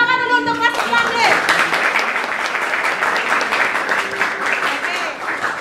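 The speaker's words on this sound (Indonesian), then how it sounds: "Oke, tepuk tangan dulu untuk kelas 9." A class of students in a school classroom breaks into applause right after a brief voice. The clapping is sustained and moderately loud, then tapers slightly.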